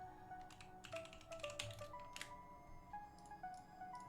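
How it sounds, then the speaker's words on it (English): Rapid, frantic typing on a computer keyboard, a flurry of light clicks and taps at fairly low level over faint steady background hum, with no voices. "I hear like the frantic typing."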